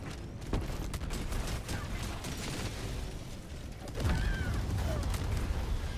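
Grenade and strafing-run explosions in the Helldivers video game crackle and boom in a dense, loud barrage, with sharp bursts early on and a heavier blast surge near the end.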